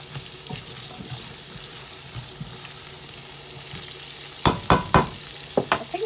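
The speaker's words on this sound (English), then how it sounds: "you're gonna cook the onions for a little bit" Onions frying in a pan for a beef stew, a low steady sizzle throughout, with a few sharp scraping clatters of a utensil near the end.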